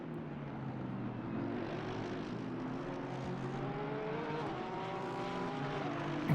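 Porsche 911 GT race car in a racing video game, circling the Barcelona circuit in a GT race, its engine droning steadily at a constant pitch with no talk over it.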